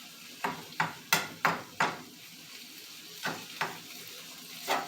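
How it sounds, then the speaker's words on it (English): Pepper steak sautés in a pan on the stove, with a quiet sizzle broken by a series of sharp scraping and clattering strokes, several in quick succession, then a pause and a few more. "So I'm gonna let this saute on the stove over the heat."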